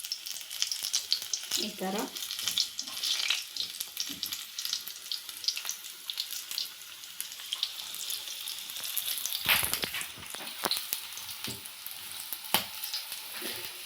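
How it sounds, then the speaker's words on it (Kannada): Green chilies dropped into hot oil for bajji, a continuous crackling sizzle with sharp pops and spatters throughout, close and fairly loud, with a brief snatch of speech partway through. "ಈಗ ಎಣ್ಣೆ ಕಾದಿದೆ, ಮೆಣಸಿನ್ಕಾಯಿನ ಬಿಡ್ತಾ ಇದ್ದೀನಿ ನೋಡಿ."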